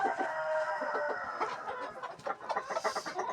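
Backyard hens kept at home alongside ducks cluck and squawk close by in a quick burst of overlapping calls, with a short drawn-out cry near the start.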